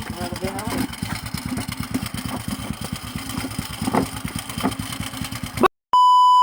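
A motorcycle engine runs steadily at idle during a mechanic's repair, with a rapid, even putter close by that continues for several seconds before an abrupt cut to an electronic tone.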